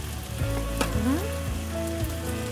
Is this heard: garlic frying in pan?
yes